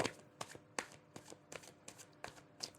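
Tarot cards are shuffled by hand in a quiet room, giving about seven crisp, rapid riffling bursts in a steady rhythm, close and soft, with no talking.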